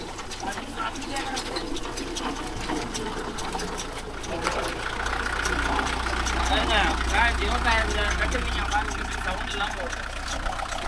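A Kubota MU4501 tractor engine idling on farmland, a low steady rumble that swells somewhat midway, heard at moderate distance beneath people talking.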